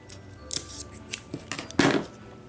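A popsicle stick is cut roughly in half with cheap scissors. A few quiet snips and clicks lead up to one louder crunching cut near the end, close by with no talk.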